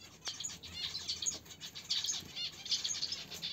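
A pair of budgerigars chirp sharply and flutter their wings in short bursts, close by and fairly quiet.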